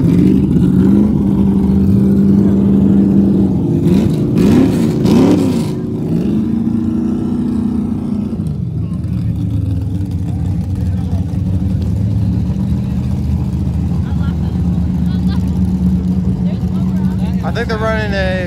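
Race cars rumble and rev at a drag racing grudge night with small-tire and big-tire classes: a loud, continuous engine drone with rising and falling revs early on, then a steadier roar, with a voice talking over it.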